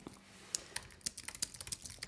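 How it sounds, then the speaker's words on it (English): Rapid typing on a computer keyboard, a fast irregular run of sharp close key clicks with no talking. "That was like super fast typing."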